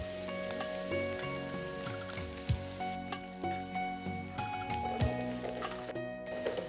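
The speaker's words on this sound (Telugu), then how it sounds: "సో ఆయిల్ వేసిన తర్వాత కాగిన తర్వాత ఆనియన్స్ వేస్తున్నాము." Onions, green chillies and curry leaves crackle and sizzle in hot oil in a studio kitchen, a dense steady frying hiss with a few louder pops and clinks of a utensil against the pan.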